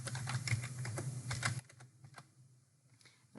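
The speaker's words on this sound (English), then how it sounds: "I'm just going to type in manually today's date." Quick bursts of keystrokes on a computer keyboard as a date is entered into a spreadsheet, soft and close, with the clicking thinning out into a few scattered taps.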